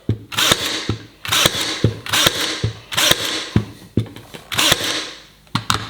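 A Ryobi 18V ONE+ cordless pin nailer fires about five nails in quick succession, each a sharp close snap with a brief mechanical whir, rhythmic and loud.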